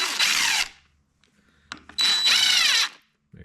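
Two bursts of a power drill or impact driver running bolts into an R154 transmission being built into a dog box for a 1JZ MK3 Supra drift car, with short mechanical clicks between the bursts.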